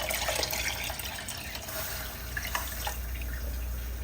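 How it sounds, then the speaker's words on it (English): Water from a measuring cup splashes and trickles into a pot of collard greens with smoked turkey, a steady close pour with small splashes and no speech. "Gonna add a couple cups of water."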